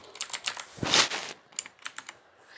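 Keys on a backlit computer keyboard clicking in a quick run of sharp taps, a louder clustered press near one second, then a few more separate clicks, close and alone.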